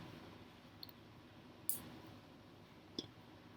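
A computer mouse clicks three times, each click faint, sharp and isolated, separated by quiet gaps of a second or more over a low background hum.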